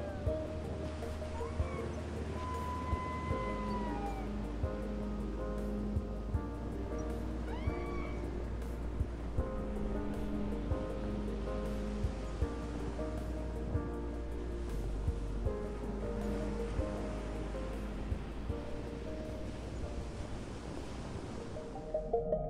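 Ocean surf washes steadily along the scenic Alola coast in an animated Pokémon series, with waves hissing and swelling under soft tonal music throughout.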